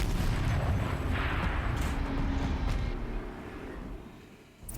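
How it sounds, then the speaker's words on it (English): Turret cannon fire in the Horizon Zero Dawn video game: heavy booming blasts up front that roll off into a fading rumble, loud and close with no talking. "Rotate turret! And fire!"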